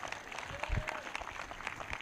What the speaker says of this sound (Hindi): वो ताली बजाकर धन्यवाद कर रहे हैं।